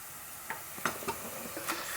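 Whole spices sautéing in a hot pan for mutton palak rassa, a soft steady sizzle with a few faint stirring clicks and scrapes, close and quiet, no voices.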